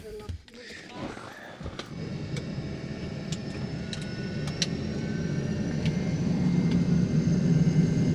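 Cabin of a small low-capacity airplane on a 15-minute flight, a steady broadband engine drone swelling louder as the clip goes on, with a few ticks and brief voices early on.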